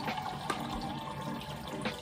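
Water runs steadily into a container while baking pretzels, a continuous pouring splash with a few brief bumps and clinks, moderately close and with no talking.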